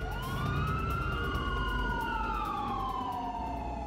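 An ambulance siren wails outside the Beverly Hilton hotel, a steady two-tone rising and falling pitch that stays loud and close throughout with no talk over it.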